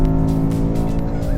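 A car with an active exhaust roars loud and steady down a race track straightaway, holding one sustained engine note with no gaps.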